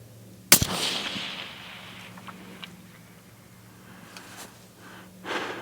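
A single sharp rifle gunshot fired at a long range target, loud and close, with a brief echoing tail, followed by quiet breathing and small handling noises.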